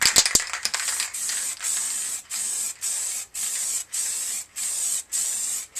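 Aerosol tint sprayed as a second coat onto a Suzuki Bandit 1200S motorcycle screen in a garage: a few quick rattling can shakes, then a run of steady, close hissing bursts separated by brief pauses.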